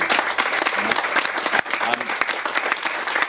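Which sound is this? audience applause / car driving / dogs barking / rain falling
audience applause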